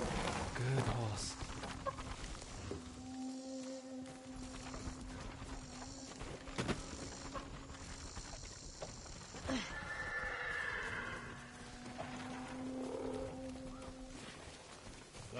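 Horse neighs and whinnies with clip-clop hooves in the video game Ghost of Tsushima, a steady game soundscape running throughout with a musical drone and a short burst of vocal activity near the start.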